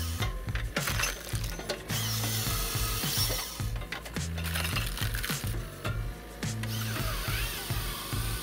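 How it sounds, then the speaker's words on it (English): A Hahn HFP160 firewood processor works through large logs, a dense, loud mechanical clatter of ratcheting, grinding and knocking with repeated heavy thumps, continuous throughout with no talk. "The advanced Hahn HFP160 firewood processing machine can process large logs with high throughput"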